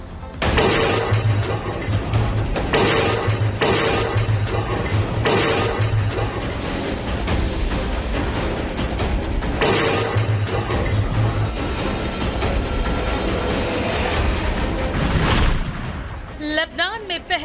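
Blasts from exploding pagers, walkie-talkies and other devices in Lebanon come as repeated loud bursts and crackling crashes, interleaved with a narrating voice and ending in noisy commotion.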